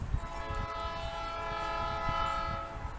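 A train passes near an outdoor garden arbor, sounding a long sustained horn blast over a low rumbling roll of wheels and cars, fairly distant and steady throughout.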